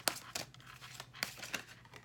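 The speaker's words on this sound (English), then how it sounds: "Do a bit more shuffling on camera." A tarot card deck is shuffled up close, producing a few brief papery riffles and crinkles over quiet background, with no talk.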